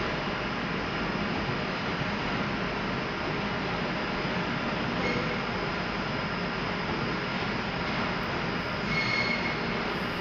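A train pulls into Birmingham New Street station with a steady rumble of wheels on rails and a broad hiss. Faint high squeals rise toward the end, and the sound is continuous and moderately close.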